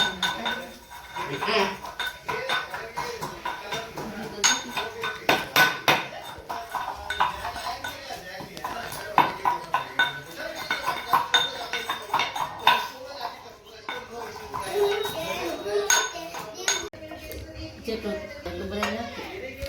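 Garlic pounded with a pestle in a metal mortar, a busy run of close, loud clanking and clinking strikes in uneven rhythm, with voices talking over it now and then.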